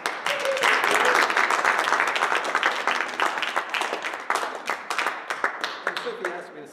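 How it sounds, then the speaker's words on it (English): Audience at a kingdom arts and sciences festival breaks into a sustained round of clapping for a singer and instrumentalist, dense and steady at first, thinning into scattered claps toward the end. "One round of applause for him"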